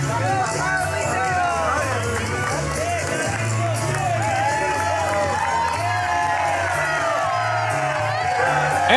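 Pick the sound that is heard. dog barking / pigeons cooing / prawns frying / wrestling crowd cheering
wrestling crowd cheering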